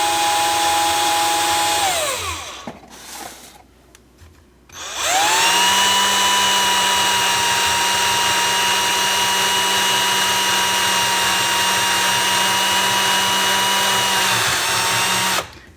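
A power drill bores through a cabinet to fit hardware, a loud whine that runs briefly, pauses, then holds steady for about ten seconds before stopping.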